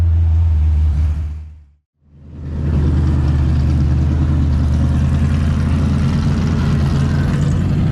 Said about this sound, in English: There is so many cars.